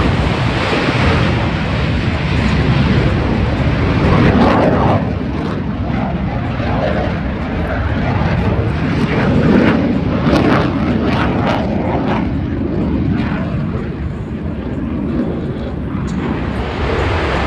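SNJ trainer aircraft, a 175-mile-an-hour propeller trainer, passing at a military air show, its broad engine roar steady and loud throughout, blended with heavy wind rumble across the microphone.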